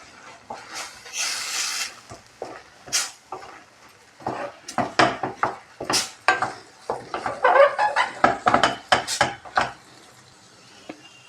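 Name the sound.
stirring frying carrot mixture in a pan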